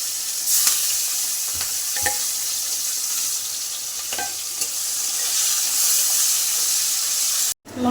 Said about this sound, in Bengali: মাছ ভাজার তেলে আমি লঙ্কা আর পেঁয়াজটা দিয়ে দিলাম।